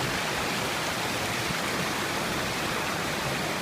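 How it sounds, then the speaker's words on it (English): A waterfall on Scafell Pike rushes with a constant broad hiss of falling water, heard fairly close and steady with no voices over it. "This is the waterfall."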